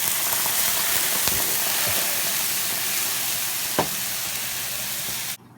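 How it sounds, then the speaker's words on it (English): Beer poured into a hot pan of moose meat to deglaze it, a loud continuous sizzling hiss with a couple of utensil taps, cutting off abruptly at the end. "We're gonna deglaze the pan with a little bit of beer"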